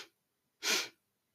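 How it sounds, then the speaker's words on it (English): Quick sniffing inhales through the nose during a guided body-scan breathing exercise, a brief faint sniff followed by a louder, fuller airy intake, heard close and alone in a quiet room. "2 short puffs of air in through your nose"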